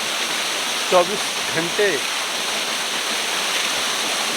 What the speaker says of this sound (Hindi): कितनी ऊंचाई से वाटरफॉल गिर रहा है।